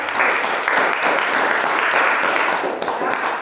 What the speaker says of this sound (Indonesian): Oke, berikan aplaus untuk Joris dan